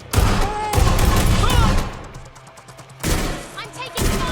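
Sustained gunfire in the Watch Dogs Legion video game, a dense, loud roar of shots that dips briefly, then resumes with another heavy burst and a trailing volley.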